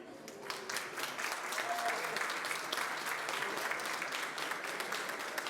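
Conference audience applauding at a session on ageing water infrastructure, a steady wash of many hands clapping, fairly distant and soft, continuing throughout without talk.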